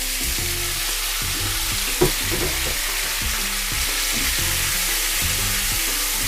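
Tomatoes sauté in a pan for homestyle chilli paneer, a strong, even sizzle with occasional stirring knocks, set against soft background music.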